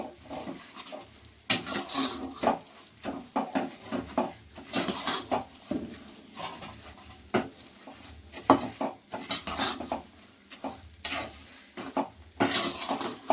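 A boondi laddu mixture is mixed by hand with camphor and sugar in a vessel, heard as irregular close clinks, taps and scrapes of utensil against the pot in uneven bursts, with no talking.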